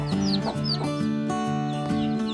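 Young native chicks at a feeder give loud, steady clucking and cheeping. The calls repeat in a close, continuous chorus with no talking.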